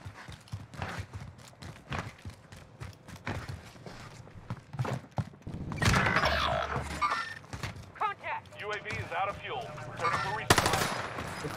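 Heavy gunfire in Call of Duty on Rebirth Island: dense automatic bursts crackle almost nonstop, swelling louder and busier in the second half amid scattered impacts and movement.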